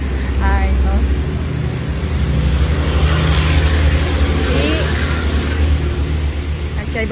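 Steady street traffic from passing cars fills the background, a continuous loud roar with people talking over it.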